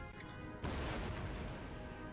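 Demi-cannon artillery in Empire: Total War battle play, a sudden heavy boom that swells into a long broad rumbling roar over a constant low din.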